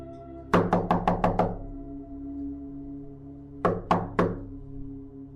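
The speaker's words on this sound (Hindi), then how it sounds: "उसे बहुत ज़ोर ज़ोर से आवाज़ आ रही थी गेट खटखटाने की" Loud knocks hammer on a gate in an animated horror story: a rapid burst of about six blows, a pause, then three more, close and sharp against a quiet hum.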